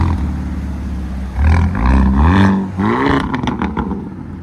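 A 2023 Hyundai Kona N with a 2.0L turbo and AFE Power cat-back exhaust: a loud, close engine rev rising and falling twice, followed by a rapid burst of sharp crackles and pops as the throttle closes.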